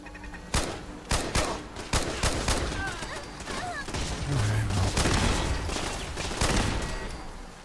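Gunfire in modded Fallout 4: a string of sharp, loud shots in the opening seconds gives way to a denser, sustained roar of firing, with faint voices mixed in.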